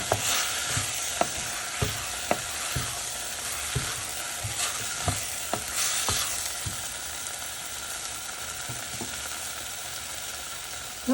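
Turmeric powder and spices fry with a loud, steady sizzle in a pan for a tilapia fish kulambu, with regular knocks and scrapes of a spoon stirring through the oil.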